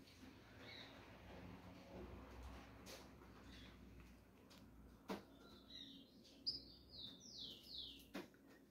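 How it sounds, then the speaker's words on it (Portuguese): A small tico-tico bird chirps and twitters in quick high bursts outdoors, faint and a little distant, over a low background hum. "O passarinho tá cantando muito, família."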